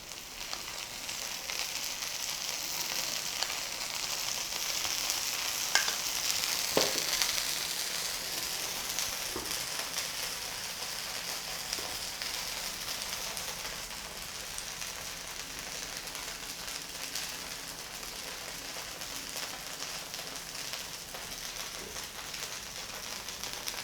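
Rava masala dosa cooking over low heat with oil drizzled around it on a pan produces a soft, steady sizzling hiss, faintly crackling and rain-like, continuous and fairly quiet with no voices.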